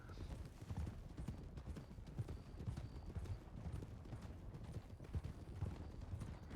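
Video game horse hooves canter in a steady, fast clip-clop that runs the whole time at moderate loudness, with a faint voice in the background.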